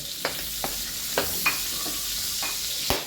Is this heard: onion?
yes